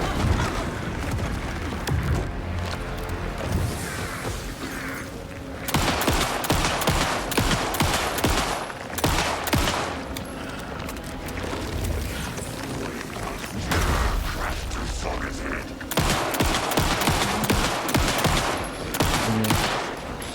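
Rapid bursts of gunfire in the video game Alan Wake 2, dense automatic fire with booming shots, loud and continuous with brief lulls, no talking.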